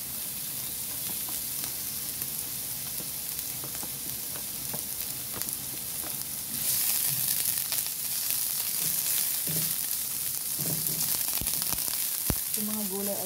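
Garlic and onion sautéing in a pan for pakbet, a steady soft sizzle with occasional stirring clatter, growing slightly louder partway through.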